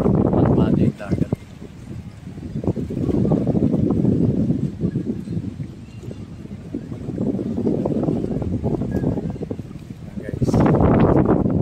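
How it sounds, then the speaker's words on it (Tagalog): Strong wind buffets the microphone in heavy gusts at a beach resort on Samal Island, Philippines, roaring low and rumbling, while a person speaks briefly over it. "Medyo malakas na hangin eh."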